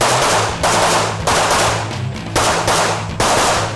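Rapid, loud gunfire from a production-class handgun shooting competition, with dense strings of close shots broken by brief pauses, and no talking.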